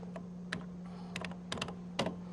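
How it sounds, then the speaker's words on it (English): Fingers type on an older computer's keyboard, giving scattered close clicks and short bursts of keystrokes over a steady low electrical hum. "we can upload a file by simply typing in the name of that file on the keyboard of the machine"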